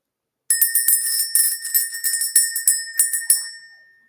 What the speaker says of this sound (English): Let's go ahead and ring this bell.